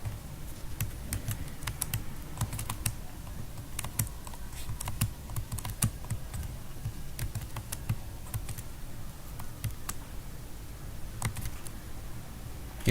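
Keys on a computer keyboard click out Ctrl+C and Ctrl+V shortcuts in an irregular string of quick, close taps over a quiet background; no one speaks.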